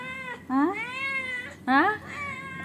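A cat following someone on a walk gives two loud, drawn-out meows about a second apart, each rising and then falling in pitch, close by against quiet surroundings.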